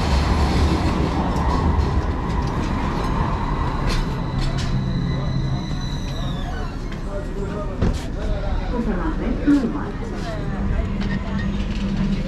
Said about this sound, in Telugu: నా ట్రైన్ వచ్చేసింది అక్సరి, ఇదేమన్నా ట్రైన్.